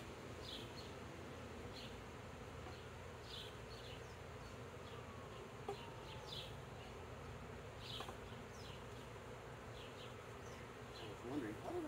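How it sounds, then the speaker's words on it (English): Honey bees in a hive in Casper, Wyoming, a dense, steady buzzing hum from many insects close by, continuous throughout with faint scattered clicks and a soft voice underneath. "See a lot of baby bees."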